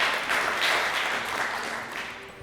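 Applause from the audience at the Meteoriks 2023 nomination gala, a brief continuous burst of clapping that holds fairly steady and fades a little toward the end.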